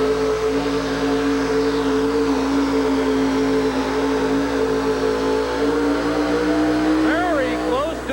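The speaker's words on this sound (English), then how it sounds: "So Gene Fanny in Going AWOL has hooked in the sled, and he will be the first to pull" A monster truck engine roars loud and close at the 1988 USHRA pulling event in Hartford, Connecticut, holding a steady heavy drone while hauling a weighted sled, with a brief rise and fall in pitch near the end.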